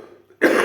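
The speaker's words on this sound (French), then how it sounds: "Il y a la toux qui va avec." After a brief quiet stretch, a person sick with flu lets out a single loud, close, harsh cough.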